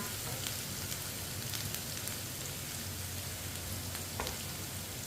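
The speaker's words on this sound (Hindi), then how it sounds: "प्याज को ऐसे ही चम्मच चलाते हुए पका लेंगे, ब्राउन कर लेंगे हल्का सा।" Onions frying in a pan over medium heat, stirred with a spoon: a steady, dense sizzle throughout with a few faint scraping clicks, close and unbroken.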